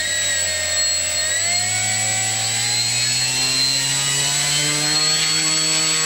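A Hobbyzone Glasair Sportsman RC plane's electric motor runs steadily, a close, loud whine with rising tonal pitch as it spools up, holding a continuous high buzz throughout with no talking.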